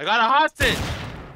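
A single sharp gunshot in Garry's Mod Trouble in Terrorist Town cracks out loud and close, right after someone shouts, then fades into a ringing decay.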